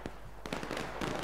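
A Civil War infantry company fires a musket volley in the War of Rights video game, several sharp cracking reports in quick ragged succession, loud and close.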